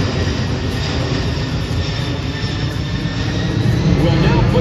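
A C-17 military transport plane flies slowly overhead at the Miramar air show, its engines producing a loud, steady roar that builds slightly toward the end, with crowd voices mixed in.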